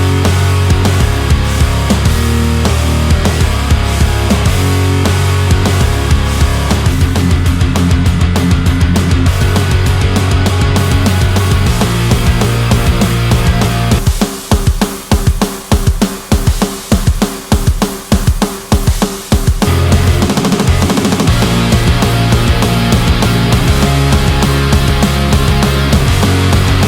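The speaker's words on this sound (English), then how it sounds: "Cool, obnoxious, punchy, pop punk drums." Punchy pop punk drums sit inside a full, loud, dense band mix, with a short stretch where the drums hit alone in sharp rhythmic bursts before the whole track returns.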